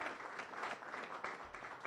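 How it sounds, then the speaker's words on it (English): A Rotary Club meeting audience gives itself a round of applause for money raised, a brief, steady patter of many hands clapping, fairly faint and without talk. "Give yourselves a big round of applause for all the money you raised and how you participated in this."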